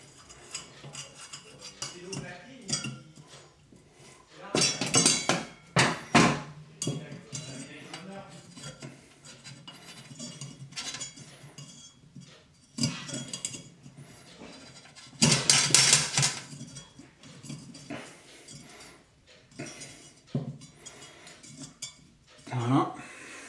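Small metallic clinks, taps and scraping of a wrench and parts while screwing in an oven fan motor, in irregular bursts, close by, with occasional louder clattering.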